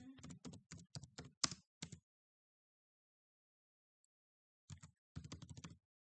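Quick bursts of typing on a computer keyboard while entering code, crisp close key clicks in two clusters separated by a few seconds of silence.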